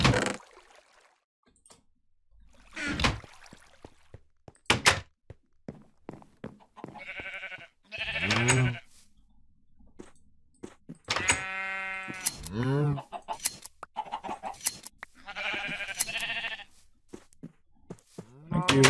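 Sheep bleat in Minecraft, several separate calls spaced irregularly, some clear and close, with quieter game sounds in the gaps.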